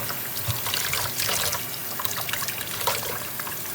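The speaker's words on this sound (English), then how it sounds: "we've brought them inside, and the first thing we have to do is give them a nice thorough washing" Freshly harvested onion greens are washed in water indoors, giving a steady close splashing and trickling with a few small sloshes and no voices.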